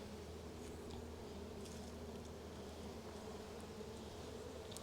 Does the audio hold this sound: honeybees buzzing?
yes